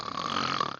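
A voice imitates a loud tiefling snore, giving one short rasping, guttural rumble under a second long that swells and then cuts off, close and alone.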